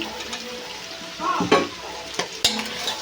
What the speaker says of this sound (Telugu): చికెన్ వేసేసాం కదా ఒకసారి అయితే కలిపేస్తాం ఇప్పుడైతే ఫ్రై అయిపోయాయండి